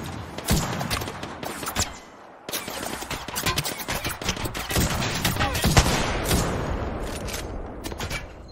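Kraber sniper rifle and other gunfire in an Apex Legends match, loud dense bursts of shots and impacts running almost continuously, with a brief lull before the firing resumes.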